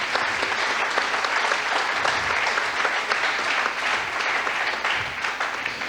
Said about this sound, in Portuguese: Quantos podem aplaudir o Senhor por isso